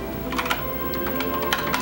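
Fingers type on an Ergodox split computer keyboard, a quick irregular run of light key clacks heard close up and alone.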